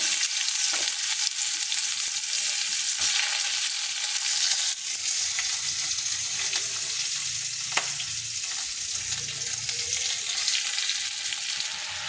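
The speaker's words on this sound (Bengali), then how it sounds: "ওই তেলে আমি একটু ফোড়ন দিয়ে দেবো শুকনো লঙ্কা আর দিয়ে ফোড়ন দিয়ে দেবো ওকে একটু পেঁয়াজ দিয়ে দেবো" Onions sizzle steadily in hot oil with dried chillies, a continuous frying hiss with occasional light clinks and scrapes of a utensil.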